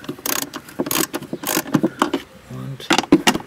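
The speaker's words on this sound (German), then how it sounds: "Mit so einer Ratschi dürfte das echt gut gehen, die Schrauben locker zu schrauben." A ratchet wrench loosens screws on an RS 450 four-stroke scooter during valve adjustment, making repeated short bursts of clicking in a close, uneven rhythm.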